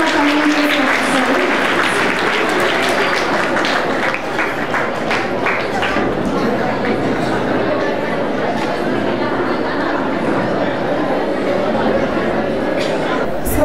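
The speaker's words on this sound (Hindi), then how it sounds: "तालियां बजा के स्वागत करेंगे। जोरदार तालियों के साथ" Loud, sustained applause from a large crowd welcoming guests at an Independence Day celebration, steady dense clapping with crowd chatter mixed in throughout.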